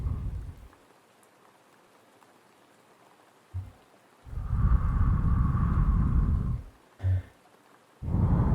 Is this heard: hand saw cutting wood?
no